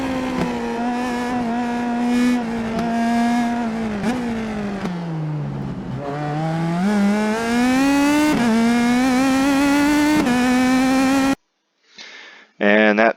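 Simulated IndyPro2000 open-wheel race car in iRacing, lapping the Long Beach street circuit: a loud, high-pitched engine whine rises through the gears with sharp upshifts and dips for braking into corners, then cuts to near silence before brief bursts return.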